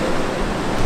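Ocean surf at Uluwatu, Bali, a loud, broad rushing roar of breaking waves with wind noise on the microphone, steady through a brief moment with no voices.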